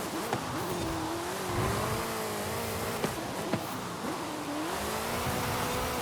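A Mustang drifting around a corner in Forza Horizon: the engine drones and revs in wavering pitch while tires squeal, loud and close, with a few sharp knocks along the way.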